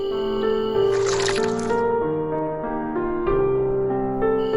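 A storybook sound effect of water poured into a seed in a jungle tale about a rabbit: squishy dripping and gurgling liquid over a steady musical tone, continuous for several seconds.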